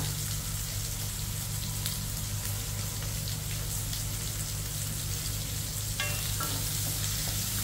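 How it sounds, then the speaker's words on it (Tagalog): Onions sautéing in a pan for a simple lunch of bitter gourd and shrimp paste, a steady close sizzle with occasional stirring scrapes and clinks, no talking. "gisa-gisa tayo ng ating sibuyas"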